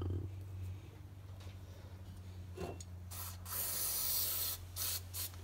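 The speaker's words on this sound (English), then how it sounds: "So I just have some electrical cleaner. Anything works, like some brake cleaners, stuff like that." Electrical cleaner sprays onto the contacts of a neutral safety switch in a long hissing burst in the latter half, after a quieter stretch of low hum and faint handling.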